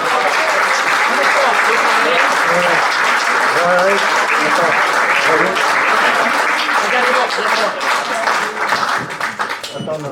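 Loud, sustained applause from restaurant guests at a Fourchette d'or award ceremony in an Indian lounge, dense clapping filling the room with voices mixed in and a slight easing near the end.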